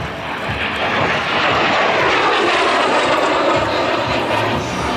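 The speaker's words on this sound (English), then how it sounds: "That incredible MiG-17." A MiG-17 jet flies at the California International Airshow, its engine a loud, steady roar that holds up close for the whole stretch without any voices.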